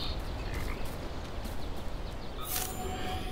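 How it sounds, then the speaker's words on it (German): Frogs croaking in the video game Atomic Heart, a dense chorus of rapid overlapping croaks held steady and moderately quiet throughout, with a short bright swish near the end. "Oh, Frösche."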